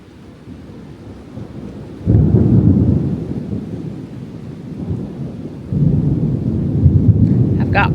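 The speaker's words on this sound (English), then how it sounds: "I ran back through the rain here. As you can see, it's pouring" Heavy rain pours down outdoors near a garage, a steady broadband wash that swells louder in two surges, with a low rumble like distant thunder underneath.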